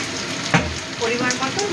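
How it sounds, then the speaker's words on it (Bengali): Vegetables hitting hot oil in a pan for vegetable fried rice, a sudden burst of sizzle followed by steady crackling frying, with a voice speaking over it. "ভালো মতো গরম হয়ে গেছে, এবার আমি সবজিগুলো দিয়ে দিচ্ছি।"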